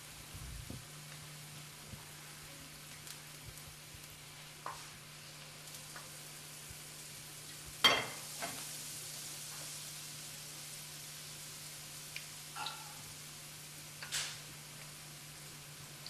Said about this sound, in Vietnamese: quý vị thấy chiên một lần 4-5 cái như thế này thôi, đừng có chiên nhiều quá